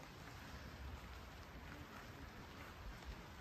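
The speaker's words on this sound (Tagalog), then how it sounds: "It's raining but lots of ducks here." Rain falls at Cultus Lake, British Columbia, a soft, even hiss of drops that stays faint and continuous throughout.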